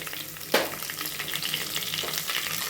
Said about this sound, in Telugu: క్యారెట్ కాసేపు వేయించుకోవాలి